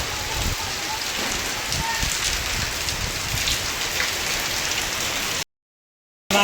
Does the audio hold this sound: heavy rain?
yes